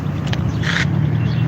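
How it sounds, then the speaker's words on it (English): A car passing on a street after making a U-turn gives a short, loud whoosh with a brief swell of hiss in the middle, close by, with no talk over it. "I know y'all hear that car, right?"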